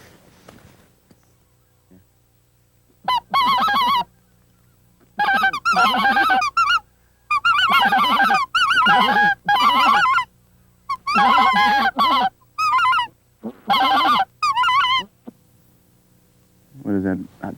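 A flock of speckle-bellied geese honks loudly as it flies in, the calls coming in repeated, overlapping bursts. The honking is close and clear, with short quiet gaps between the bursts.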